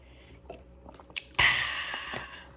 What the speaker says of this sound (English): I am going to quench my thirst with this long-lasting bottle of Fiji water.